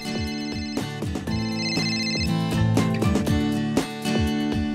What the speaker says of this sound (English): when you can't find your phone, your GoKey will make it ring.